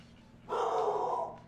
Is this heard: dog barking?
yes